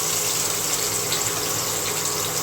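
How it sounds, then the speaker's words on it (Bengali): Potato pieces frying in hot oil that was used before for pointed gourd in a home kitchen: a loud, steady hiss and sizzle that fills the clip without pause, no voices. "সেই তেলের মধ্যে এই যে আলুগুলো ভেজে নেওয়া হবে"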